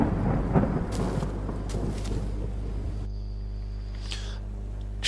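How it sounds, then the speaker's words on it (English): Heavy rain and rumbling thunder outside a house in the video game Wardwell House, a loud broadband roar that drops off midway to a lighter, steady hiss with a faint tonal hum, no voices. "It's too cold outside and the rain is getting heavier by the minute."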